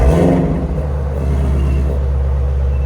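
A Ford Mustang 5.0 Dark Horse idling with its exhaust valves closed, a steady deep rumble that stays loud and close throughout.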